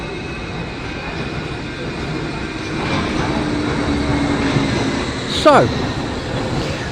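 A train passes on a century-old railway beside a river, heard outdoors as a rumble that builds through the middle, with a brief squeal near the end and a person saying a word.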